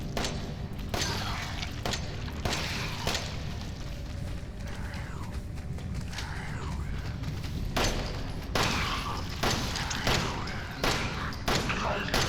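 Gunshots from a handgun in Resident Evil 7 ring out in the salt mines, a series of loud, sharp reports spaced a second or two apart over a dense, rumbling game background.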